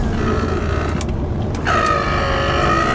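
Power windows on a Mercedes car whir as an electric motor drives the glass, a steady mechanical hum under the idling engine, close by with a slight shift in tone partway through.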